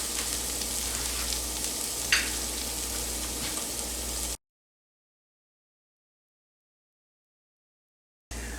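Chopped onions for tomato soup sautéing in a pan, a steady soft sizzle with occasional stirring scrapes, broken by a long silent gap before the frying resumes briefly.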